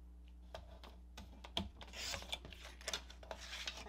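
Paper being cut for an envelope mini album, a close series of quiet rasping slices and taps, irregular bursts of scraping over a few seconds with no voices.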